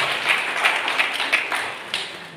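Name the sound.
audience applause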